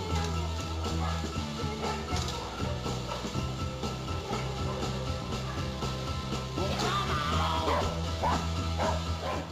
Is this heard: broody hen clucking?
no